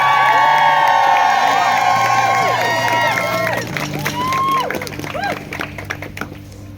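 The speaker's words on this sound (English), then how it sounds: "can we just please give them another round of applause" Outdoor crowd at a women's march cheering and shouting for the organisers, with some clapping, loud at first and then thinning into scattered whoops and voices.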